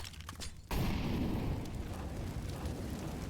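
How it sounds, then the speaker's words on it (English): Incendiary grenade going off in a video game, one sudden loud burst followed by a sustained roaring, crackling rumble of flames that stays strong to the end. "Incendiary out."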